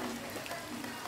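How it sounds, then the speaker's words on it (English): Very intense rain pours down outdoors in a dense, steady hiss of drops hitting surfaces, loud and unbroken across the moment with no voices. "That is the sound of very, very intense rain."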